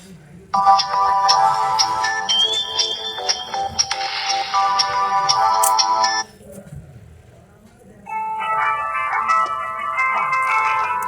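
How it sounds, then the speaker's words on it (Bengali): A G Phone GP 37 keypad phone plays its ringtones: a loud, bright electronic melody for several seconds, a short pause, then a second tone, while someone talks quietly underneath. "আমরা এই ফোনটির রিংটোনটা বরাবরের মতো একটু চেক করবো যে ফোনটির রিং সাউন্ড কেমন ছিল"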